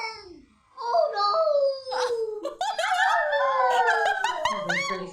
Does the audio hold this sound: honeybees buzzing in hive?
no